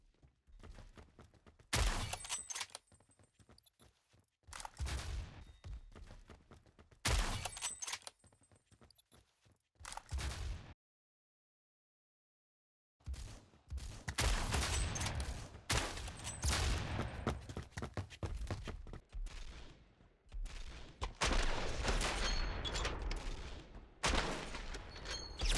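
Rifle fire in the online shooter game Phantom Forces comes as bursts of sharp gunshots and rapid volleys, separated by short quiet gaps, loud and close throughout.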